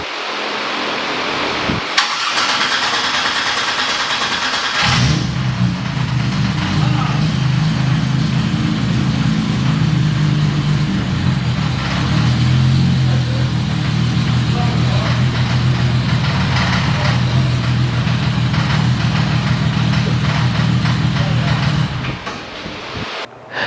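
A Toyota Supra engine on a dyno cranks and catches, then settles into a steady, loud idle with a deep droning hum that holds for many seconds before cutting off.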